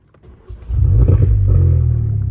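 A Volkswagen R car with a DSG gearbox starts up, its engine catching after a brief crank and settling into a loud, steady close-up rumble with a rev, no talking.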